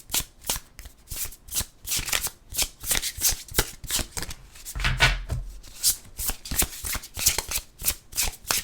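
Tarot cards are shuffled continuously, giving a rapid, rhythmic riffle and slap of card stock that is loud and close throughout, with no voices.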